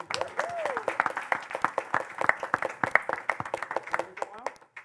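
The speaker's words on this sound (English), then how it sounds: "Can we get a round of applause for Lucy?" Steady audience applause at a city commission meeting with many hands clapping throughout, a few voices rising over the clapping before it thins out at the end.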